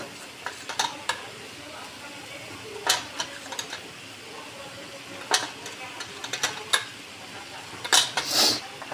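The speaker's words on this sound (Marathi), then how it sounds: "कांदा छान गुलाबी करून घ्यायचा आहे। कांदा परतल्यावर त्यात थोडी हळद" Onions sauté in a pan for vegetable biryani, sizzling steadily up close while a spoon stirs and scrapes against the pan at irregular intervals.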